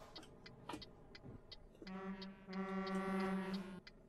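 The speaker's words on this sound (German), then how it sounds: "Kommt da einer oder warum hupt er mich an?" A truck or car horn sounding in the driving game Euro Truck Simulator 2 during multiplayer play: a sustained, fairly loud honk of about two seconds, preceded by scattered faint clicks.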